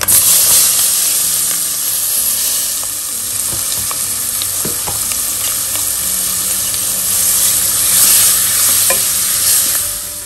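Sliced onion frying in oil with bay leaf and dried red chili, a steady loud sizzle and hiss with scattered stirring scrapes, no voices.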